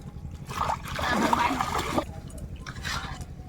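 Water splashing and trickling as someone washes their body in the Sundarbans, a short burst of pouring and splatter in the middle over a low background hum, fairly close.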